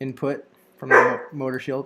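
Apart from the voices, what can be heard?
dog barking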